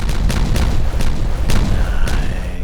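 Explosions go off in Timberborn while water channels are blasted out, a series of dull booms and crackling blasts over a rumbling low background.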